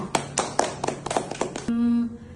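A classroom of students claps briskly for a classmate in a series of sharp, close claps. A voice then speaks briefly as the clapping ends.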